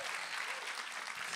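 A church congregation claps throughout, a dense, steady wash of many hands at moderate distance, filling the whole short stretch without a break.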